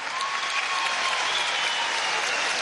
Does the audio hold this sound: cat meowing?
no